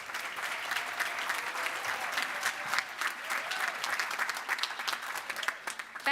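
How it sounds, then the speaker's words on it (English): A large audience at a University of West London graduation ceremony claps in steady, sustained applause, a dense even patter of many hands with no break. "Let's give them a very big round of applause"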